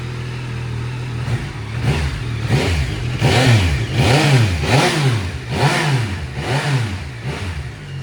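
A 2024 Yamaha Tracer 9 GT+ on its center stand with stock exhaust idles, then is revved in about six rhythmic rising-and-falling throttle blips, close and fairly quiet.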